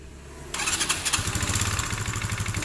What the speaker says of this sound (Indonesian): Oke, kita coba motor ini hidupkan.